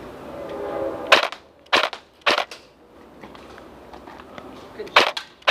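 Airsoft guns fire during an outdoor airsoft game: several sharp, loud snapping shots, singly and in a quick pair, separated by quiet stretches with faint background noise and occasional distant voices.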